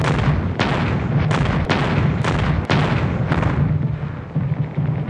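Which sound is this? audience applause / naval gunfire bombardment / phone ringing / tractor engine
naval gunfire bombardment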